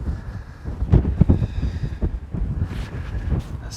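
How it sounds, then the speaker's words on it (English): Strong coastal wind buffets the microphone on a cliff-top section of the South West Coast Path near the River Erme, with rumbling gusts that rise and fall continuously and no talk. "It's pretty windy up here."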